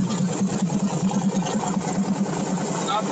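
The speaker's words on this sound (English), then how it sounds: "You can hear the idle now." A car engine running on E85 through a blow-through CSU carburetor idles fast after a cold start, a loud, close, steady rhythmic rumble with no voices over it.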